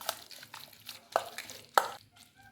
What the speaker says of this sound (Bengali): তো আদা রসুনের পেস্ট মাখিয়ে নিয়েছি ভালো করে